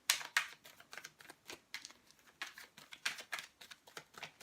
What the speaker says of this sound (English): So I'm going to shuffle and let's see what the cards have to say for you.